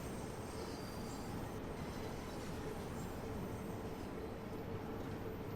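A London Underground 1972 Stock train on the Bakerloo Line in Train Sim World 2 runs with a steady, continuous rumble and rail noise throughout, fairly quiet and alone without talk.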